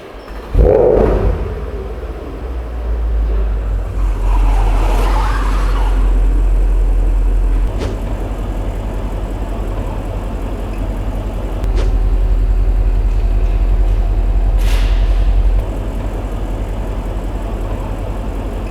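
A Porsche Panamera 4.8 with freshly repaired suspension and slight engine knock starts with a loud low roar, then idles and drives with a steady deep engine drone and occasional clicks and thumps.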